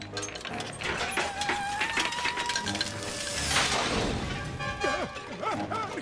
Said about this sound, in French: Cette grue est vivante!